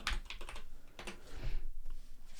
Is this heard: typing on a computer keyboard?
yes